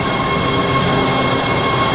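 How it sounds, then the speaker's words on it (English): Train noise in a Los Angeles setting: a steady, loud rumble of rail cars rolling along the tracks with faint wheel squeal, continuous throughout with no talking. "Don't get on this train, man."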